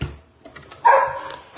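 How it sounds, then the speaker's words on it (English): A pet dog indoors barks at a neighbour and her dog outside, giving one short, sharp bark in the middle and a softer yip at the end, amid light clicks and no talking. "the neighbor's outside with her dog, so Lucy feels the need to bark at them"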